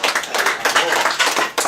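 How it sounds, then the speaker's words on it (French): An audience applauds a friend, actor Oscar Sisto, at a Paris event, a close burst of rhythmic clapping that rises in quick waves and ends abruptly. "Je vous demande d'applaudir très très fort mon ami Oscar Sisto qui est là."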